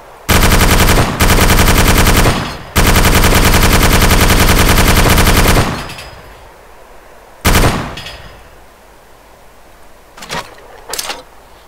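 A mounted machine gun in the DayZ Epoch video game fires in loud, sustained automatic bursts with a brief gap between them, followed by a shorter burst and a few scattered single shots as the sound fades.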